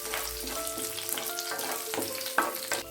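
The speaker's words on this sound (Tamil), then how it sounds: "ஒரு பேனில் கொஞ்சம் ஆயில் விட்டுட்டு சீரகம், சோம்பு, பெப்பர் கொஞ்சமாக எடுத்துக்கலாம்." Cumin, fennel, pepper and curry leaves fry in a pan of oil, giving a steady close sizzle with bursts of crackle and spatter that run alone through the whole stretch.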